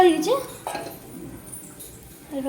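A lid goes onto a cooking pot during Bengali home cooking of poppy-seed dishes, a brief metallic clink and clatter of cookware heard near, with voices in the kitchen around it.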